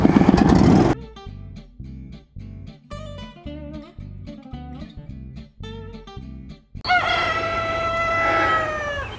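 A rooster crows loudly and close by, a long harmonic call near the end, with a short burst of noise at the start and steady low sounds between.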